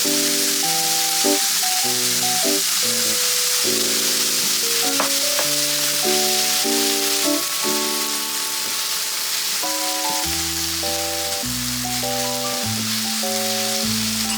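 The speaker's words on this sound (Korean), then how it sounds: "팬에 오일 두르고 채 썬 양파, 애호박 넣고 볶아요." Sliced onion and zucchini stir-fry in oil in a pan, giving a steady, close sizzle that runs the whole time beneath louder background music.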